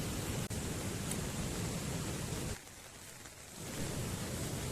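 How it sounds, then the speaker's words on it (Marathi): Heavy monsoon rain pours down in a dense, steady roar over rural rice fields. It eases briefly midway, then returns at full strength, and no voices are heard. "इतका पाऊस तर 12-1 वाजले, तिथून पाऊस उघडतच नाही"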